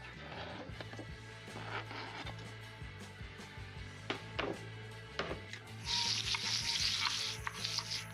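Pork fat melting in a pan for Ukrainian Chumatska porridge, producing a soft, close sizzle punctuated by sharp utensil taps and scrapes, with a brighter, louder spitting burst toward the end.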